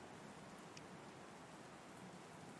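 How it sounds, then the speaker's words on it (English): Steady rain falls in the video game NieR Reincarnation, a soft, even hiss of drops that continues unbroken and faint, with no voices. "The sound of the rain begins to fade."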